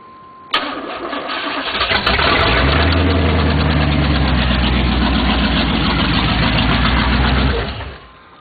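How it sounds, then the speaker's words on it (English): A V8 engine in a 1991 Camaro Z28 running open headers cranks and fires, then settles into a loud, rough, lumpy idle with a deep rumble, held for several seconds before cutting off. "you can hear it. It's pretty much just open headers right now."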